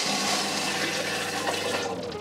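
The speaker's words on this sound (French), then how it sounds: "La pédale est en bas des WC. Et quand on tire l'eau," A motorhome toilet is flushed with a foot pedal, letting a steady rush of water pour through the bowl for a couple of seconds, close and continuous, then tapering off.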